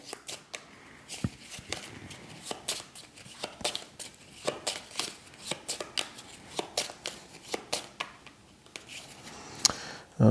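A deck of playing cards is shuffled by hand for a solo card game, with repeated close riffling bursts and rustles in an uneven rhythm.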